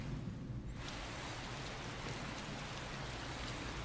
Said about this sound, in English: Oh, it's all rainy and yucky outside.